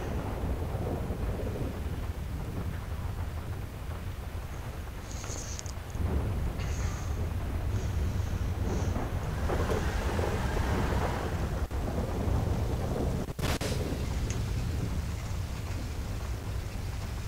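Steady rain with a low rumble of thunder and wind in the Highlife RP video game, a continuous broadband wash throughout with a sharp crack near the end.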